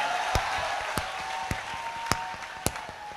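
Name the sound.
audience applause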